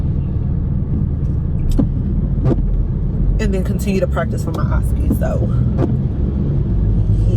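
A steady low rumble fills a parked car's interior while waiting in a coffee line, running continuously beneath a woman's close, conversational speech.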